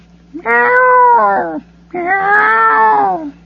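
An injured kitten gives two drawn-out, wavering meows, close and clear, with a short pause between them over a faint steady hum.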